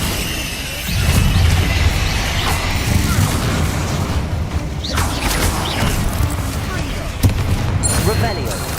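Bombarda explosion spells booming in the Hogwarts Legacy video game, a run of heavy blasts and rumbling impacts over several seconds, loud and dense, with a character's voice calling out beneath the din.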